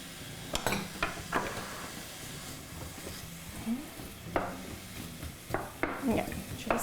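Onions fry in a hot pan for a jerk-chicken-style shepherd's pie with a low background sizzle. Repeated scraping stirs and light clinks of a utensil against the pan sound close by, with some talk in between.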